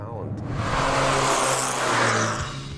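An early-1970s Volkswagen sports coupe engine drones steadily at close range with a throaty, buzzing rumble, swelling slightly in the middle, as if cruising or gently revving past.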